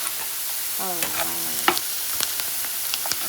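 Butter, onions and garlic sizzling steadily in a pan as they caramelize, a constant frying hiss with a few light clicks of stirring; someone speaks briefly over it.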